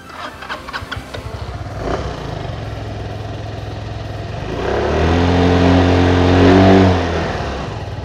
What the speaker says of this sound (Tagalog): papaanda rin po namin yung scooter para mapakinggan yung tunog ng makina po